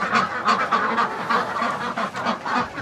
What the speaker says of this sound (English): Good morning, chickies. And ducky ducks.